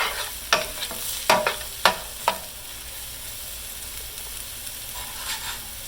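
Wooden spoons stirring beef tips for country-style beef tips and gravy, a handful of sharp scraping and clacking strokes in the first two seconds over a steady low hiss, then mostly quiet with one faint stroke near the end.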